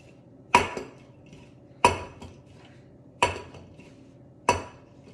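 Dumpling dough being rolled out with a rolling pin and turned on a floured surface; four evenly spaced knocking thumps of wood on the board, close and clear, with a quiet hum between them and no talking.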